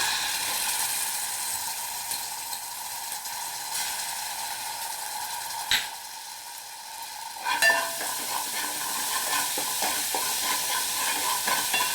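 Ginger garlic paste frying in a pan for homemade tomato soup, a steady close sizzle with a brief sharp clink from a utensil midway, a short dip, then renewed sizzling and light stirring scrapes.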